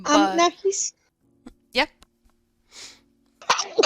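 A single sneeze bursts out in the middle of a conversation, with voices talking before and after it.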